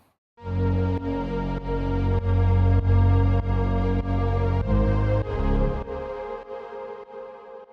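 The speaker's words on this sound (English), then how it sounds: "So synth pad along with the bass pad," A synth pad layered with a deep bass pad forms one thick sustained chord, the heavy low end pulsing in steady rhythmic ducking before trailing off near the end; loud and without any talking.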